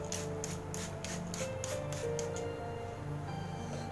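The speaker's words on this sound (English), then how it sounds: "Now I will be spraying some water." A few quick hissing spritzes from a spray bottle misting water onto a face, close by, repeated in a short rhythmic series over a quiet background hum.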